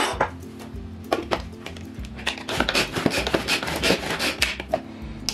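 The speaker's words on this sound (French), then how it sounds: "Et je vais faire exactement la même chose avec le bacon. Pareil, je ne vais pas trop le hacher" Knife roughly chopping bacon on a cutting board, a busy run of quick, close, irregular chops and scrapes with occasional light clinks, no talking.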